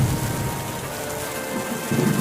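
Dense, steady rainfall with a constant wash of patter, fairly loud, with no voices.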